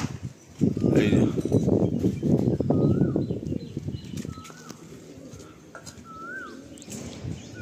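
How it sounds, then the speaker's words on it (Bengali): Madrasi pigeons released to fly, a loud burst of flapping wings close by in the first few seconds, then quieter with scattered chirps and faint calls. "দেখুন পায়রাগুলো উড়ানো হচ্ছে রানিং বলে"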